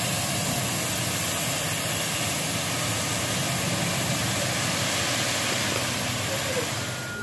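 A front end loader's engine runs steadily while it spreads gravel at a pole barn build site. The drone is loud, constant and broadband, heard alone without talk for about seven seconds.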